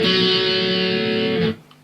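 A single sustained, effect-laden electric guitar note or chord from a song's verse riff rings loud and alone for about a second and a half, then cuts off sharply.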